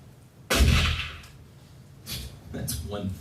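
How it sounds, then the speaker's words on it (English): AK-47 gunshot sample triggered in a music sampler: one sharp, heavy blast with a decaying tail, followed by someone talking. "That's one thick AK-47."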